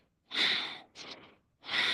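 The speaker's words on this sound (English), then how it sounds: "Inhale as you open, exhale as you bring it in." Forceful rhythmic yoga breaths during a Kundalini kriya come close up, with two long, breathy inhale–exhale bursts and a shorter one between them, separated by brief silences.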